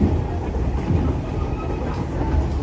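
A New Hope Railroad fall excursion train of steel cars, each about 70 tons, rolls along with a steady low rumble and soft rhythmic wheel clatter throughout.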